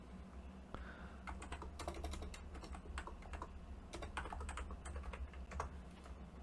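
A computer keyboard clicks under steady typing, with quick, close keystrokes in an uneven rhythm and a few firmer presses such as the enter key over a low background hum, no talking.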